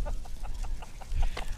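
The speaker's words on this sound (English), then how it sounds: "That's a rooster, pheasant." A rooster pheasant calls during a public-land duck hunt, with a series of short repeated notes at moderate distance over steady outdoor background noise.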